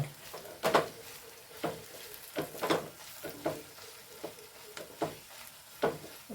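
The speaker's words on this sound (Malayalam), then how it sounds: "മഞ്ഞൾപ്പൊടി ഇട്ട് കൊടുത്തിരിക്കുന്നു ഒന്ന് ഇളക്കി നോക്കാം" Turmeric powder is stirred into a frying date and green chilli pickle mixture, with a spoon scraping the pan in steady strokes about once a second over a quiet, constant sizzle.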